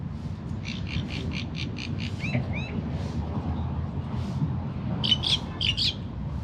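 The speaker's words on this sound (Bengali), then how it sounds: "কাজাখস্তানে এসে জোড়া শালিক, জোড়া পায়রা" Mynas and pigeons calling outdoors in a park in Almaty, Kazakhstan: a quick run of bright repeated chirps, a couple of sliding whistles, then a louder burst of harsh calls near the end, over a steady low background hum.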